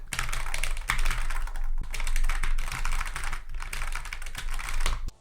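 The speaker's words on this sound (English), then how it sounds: "So here's what these switches sound like." Rapid, dense clicking of arcade-style button switches on a metal hitbox controller being pressed in quick bursts, close and crisp with a constant low hum underneath.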